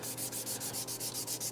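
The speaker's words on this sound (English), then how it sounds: "I'm going over with an old 400 grit sanding pad to make everything" An old 400 grit sanding pad rubs back and forth at an even, brisk pace, giving a loud, close, rhythmic scuffing with no voices.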